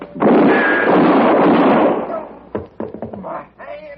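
A loud, sustained burst of a gunshot blast in an old radio drama, with a long rumbling decay, followed by softer scattered knocks and shuffling.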